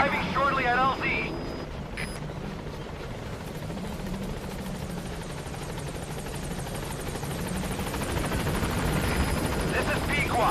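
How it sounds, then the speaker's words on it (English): Pequod, a support helicopter in a video game, arrives at a landing zone. Its rotor drones steadily and loud throughout, with a radio voice crackling briefly at the start and again near the end. "This is Pequod. Have arrived at LZ. Will stand by. Support helicopter has arrived."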